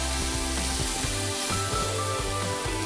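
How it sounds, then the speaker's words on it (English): Oil hissing and sizzling in a hot frying pan alongside vegetables, a steady close crackle with a low rhythmic hum underneath throughout. "I'm going to add a bit of oil onto the pan"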